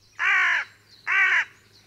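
Two loud, harsh caws from a carrion crow, a big, sleek, entirely black bird, each call drawn out for about half a second with a short pause between, close and clear over a faint steady hum.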